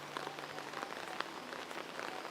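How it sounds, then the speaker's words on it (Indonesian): Heavy rain falls over a village as a dense, even hiss with scattered drop patter, steady and fairly soft throughout, with no voices. "Ya pokoknya mah hujan gede ini teh"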